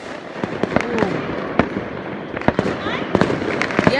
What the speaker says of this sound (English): There's some fireworks over there.